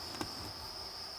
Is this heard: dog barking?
no